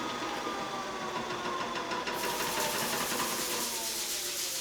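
A Laguna 12|16 midi lathe motor strains and bogs down while a large bowl is turned, giving a steady dense mechanical drone that shifts slightly in pitch partway through.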